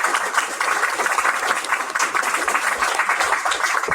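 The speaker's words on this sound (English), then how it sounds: "give Mr. Bashir a round of applause for his time" An audience applauds a speaker at a packed, warm meeting hall, a dense, steady patter of many hands clapping at moderate loudness throughout, with no talk over it.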